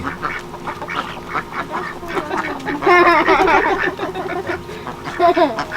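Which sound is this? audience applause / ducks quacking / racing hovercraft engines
ducks quacking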